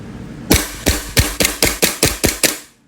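A WE T-Rex Hi-Capa airsoft pistol fires about eight sharp single shots in a quick, fairly even rhythm at close range, each crack followed by a short tail, with nothing before or after.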